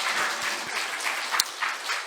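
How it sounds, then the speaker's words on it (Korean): A church congregation gives a brief burst of applause for the choir conductor during a Sunday afternoon service, a dense patter of many hands at moderate loudness lasting about two seconds. "수고하시는데 박수 한번 줍시다."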